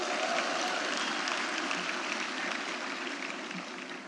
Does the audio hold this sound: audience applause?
yes